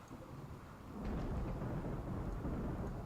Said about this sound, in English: As a thunderstorm comes down, rain comes over Rimworld, frame rate drops a little bit